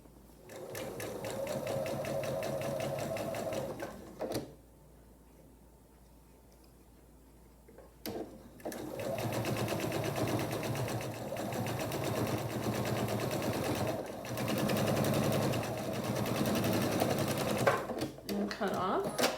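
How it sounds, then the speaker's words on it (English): A sewing machine stitching a scant quarter-inch quilt seam for a Jacob's Ladder quilt block, its steady rapid mechanical whirr running in two long stretches around a brief pause, with someone talking over parts of it. "Now I'm ready to sew a scant 1/4 inch seam right along here."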